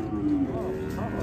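A cow moos loudly and close by at a cattle fair corral, a long low call with a couple of shorter rising lowing sounds following.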